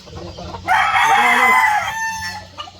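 A Boston Roundhead rooster crows once, loud and close, a long strained call lasting over a second before trailing off, with quieter farmyard clucking and faint background noise around it.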